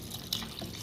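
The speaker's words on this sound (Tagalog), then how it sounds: "Pwede na tayo mag-add ng tubig." Water poured into a pot of simmering vegetables with shrimp, a steady close splashing and trickling that runs for under a second, with a brief louder gush partway through.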